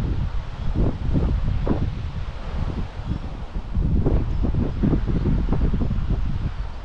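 Wind buffets the microphone outdoors while a DJI Mini 3 Pro drone is flown. Steady, fairly loud rushing gusts with no one speaking.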